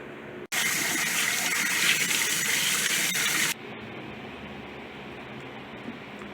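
Water gushes steadily from a tap or jug into a tarantula's water dish for about three seconds, loud and close, then cuts off to a quiet background.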